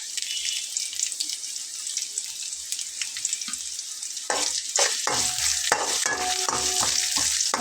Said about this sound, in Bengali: লবণ দিয়ে এটাকে ভেজে নেব